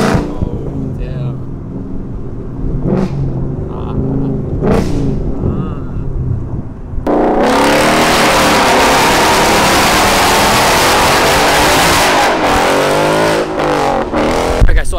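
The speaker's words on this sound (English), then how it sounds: "Let's hear that downshift one more time." A Ford Mustang GT with a 5.0 engine revs through a downshift: a rough idle rumble with short blips, then a loud, sustained roar from about midway, close and filling the rest of the clip.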